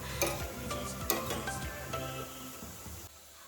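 Vermicelli cooking in milk in a pot, a soft bubbling simmer with gentle stirring and a few light clinks of a spoon against the metal, fairly quiet and close.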